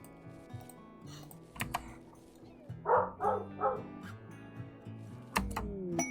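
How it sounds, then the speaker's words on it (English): Three quick dog barks sound in a row at moderate distance, set against steady computer keyboard typing and clicks. A louder knock comes near the end. "I'm sure you can hear the dogs barking"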